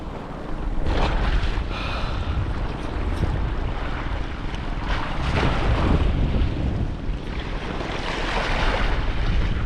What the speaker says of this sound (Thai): แต่ลมแรงอะ่ะ